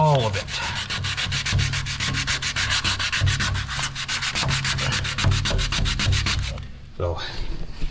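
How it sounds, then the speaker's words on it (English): Hand sanding of a truck bed in prep for spray-in bed liner: a fast, rhythmic scratchy rubbing of many close strokes, loud and steady, breaking off briefly near the end. "you're gonna have to get in and hand sand"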